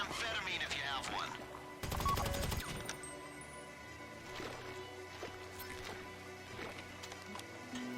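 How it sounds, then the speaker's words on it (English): Gunfire in a GTA Online heist sounds as a brief burst of rapid shots in the middle, set against a low game soundscape with scattered thuds and clicks. "I hear gunfire, so somebody's obviously trying to kill one of the guards over there."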